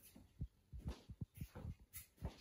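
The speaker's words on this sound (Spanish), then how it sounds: "No para de jadear." A German Shorthaired Pointer close by, pressing out a series of short rhythmic breathy pants that come in quick irregular bursts just before giving birth, with no talk.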